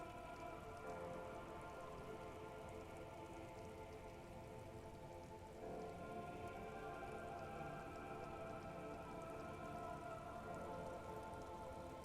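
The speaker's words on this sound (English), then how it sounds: "All around you, rain keeps falling down. On the wooden boards she's standing on, and on the water around you." Steady, close rain in the game Disco Elysium, drumming on wooden boards and spattering into the surrounding water, a dense continuous hiss that swells slightly partway through and runs alone without any voices.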